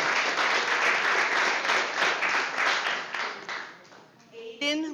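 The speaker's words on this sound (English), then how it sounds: "Let's clap for Morris Ivory" A crowd at a borough council meeting applauds steadily with dense clapping that tapers off near the end, followed by a brief voice.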